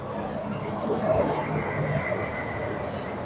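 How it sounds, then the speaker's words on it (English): A Disney monorail train glides past at Downtown Disney, giving a steady, moderately loud rumble that holds through the whole stretch with a slight swell in the middle, heard from some distance behind. "Got the monorail going by behind us."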